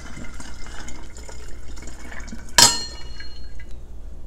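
Hibiscus tea splashes into a large glass jar in a kitchen, a sudden bright pour-and-splash burst in the middle of the clip, close and fairly loud, over faint background noise.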